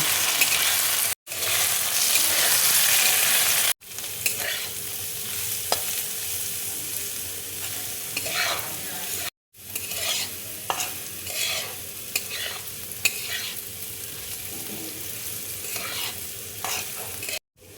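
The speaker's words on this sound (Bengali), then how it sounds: "এবার আমি ডালিয়াটা দেখো ঘিয়ের মধ্যে দিয়ে দেবো। 4 মিনিটের মতন দেখো আমি ভেজে নেব।" Broken wheat daliya sizzles softly while frying in melted ghee, broken by frequent scraping stir strokes in an irregular rhythm, with a few brief cuts between segments.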